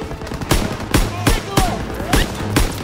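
Bursts of World War II machine gun fire in Call of Duty WWII during the Hill 493 battle, several sharp loud volleys at roughly half-second intervals over a steady backdrop of combat noise, with faint voices underneath.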